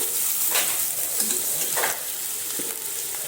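Fish frying in a pan for a tomato and potato fish gravy, a steady bright sizzle with occasional stirring scrapes and clinks, close and alone.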